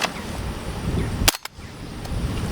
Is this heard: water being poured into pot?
no